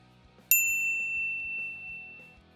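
A bright notification bell dings once as a sound effect, a sharp metallic strike that rings clearly and fades slowly. A soft rhythmic thud continues underneath.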